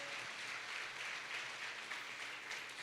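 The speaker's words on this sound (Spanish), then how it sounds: "Alguien déle un aplauso al Señor en esta hora." A church congregation applauds during a service, producing a steady, faint wash of clapping that holds evenly throughout.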